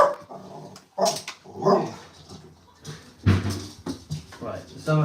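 Excited dogs barking and yipping as they are hooked up to leads before a walk, short sharp barks and whines coming close and at irregular intervals, mixed with someone talking.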